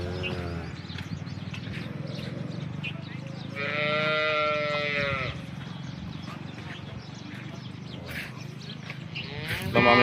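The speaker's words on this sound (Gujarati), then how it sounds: "બનાસકાંઠાની લોકલ ગાયો છે બધી" Local Banaskantha cows moo in a farm setting, one long loud low moo standing out mid-way amid other cattle calls and bleat-like sounds, with faint background voices.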